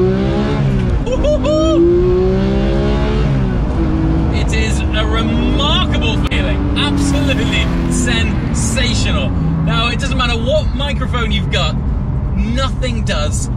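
A manual Porsche 991 GT3 engine revs hard toward 9,000 RPM, its loud rising howl sweeping up repeatedly with gear changes, close and continuous throughout.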